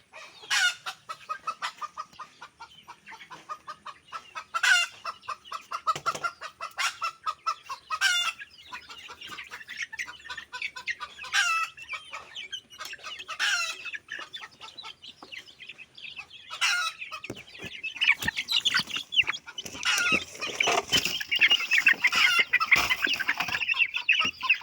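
A flock of farm chickens clucks and cackles continuously at close range, with a rooster crowing partway through. The fowl grow busier and denser toward the end, and no one speaks.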